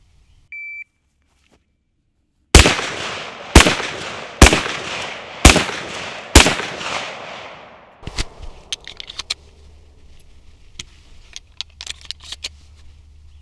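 A short beep, then five loud, sharp rifle shots at an even pace at a target, followed by scattered clicks and metallic handling sounds of reloading.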